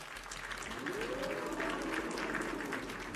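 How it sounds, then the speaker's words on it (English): Applause for Lucy, a channel subscriber, rises as a steady wash of clapping that carries through the whole moment, with a voice briefly sounding over it. "Everybody, round of applause for Lucy."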